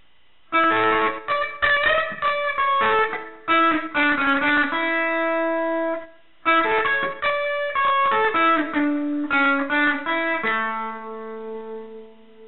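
A distorted electric guitar riff, quick picked notes and sustained tones, with a short pause midway, played loud and close, ending on ringing held notes.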